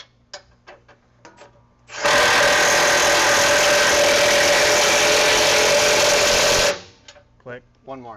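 A power tool buzzes loudly in one sustained burst of about four and a half seconds while tightening bolts on a lifted Dodge truck, with brief clicks and low talk before and after.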